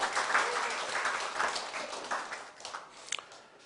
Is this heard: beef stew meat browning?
no